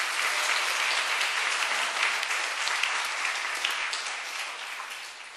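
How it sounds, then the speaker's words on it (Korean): A church congregation applauds during an ordination ceremony, a steady wash of many hands clapping at close range for several seconds with no voices over it. "큰 박수 부탁드립니다"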